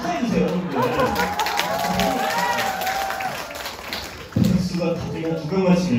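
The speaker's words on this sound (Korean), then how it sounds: "박수가 갑자기 한 2명만 치길 깜짝 놀랐습니다." Applause at a fan meeting from only a few people, with sparse claps under and between talk from a small crowd that is moving around, plus a louder burst of noise near the end.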